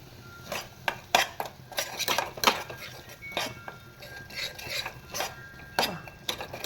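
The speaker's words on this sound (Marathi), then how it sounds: "छान तेलावर परतवून घ्यायचं आहे, तेल सुटेपर्यंत" A spatula repeatedly scrapes and clinks against a pan while Malvani masala for a mandeli fish curry is sautéed in oil. The metallic strokes come close and irregular, with no talk.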